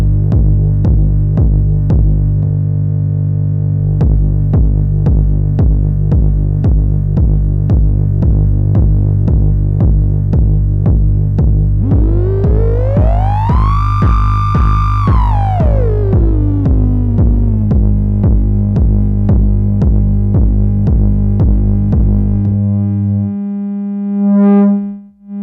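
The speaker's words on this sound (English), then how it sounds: "I will use two sine waves and a 909 kick drum to show how the Fusion Mixer affects the low-end frequencies" Sine waves and a pounding 909 kick drum run through an Erica Synths Fusion Tube Mixer, with a steady deep throbbing pulse and a sine tone that rises, holds high, then falls; loud and continuous before stopping.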